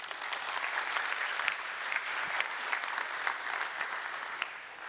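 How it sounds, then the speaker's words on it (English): A conference audience claps in sustained, dense applause, many hands heard together at an even level for the whole stretch with no voices. "big applause for them"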